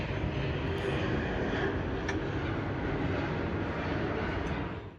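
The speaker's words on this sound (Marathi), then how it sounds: "एरोप्लेन चालले वरनं, पण आता त्याचा आवाजच येतोय नुसता." Airplane passing overhead in cold wind, a steady broadband roar that stays loud and unbroken for about five seconds, with no talk.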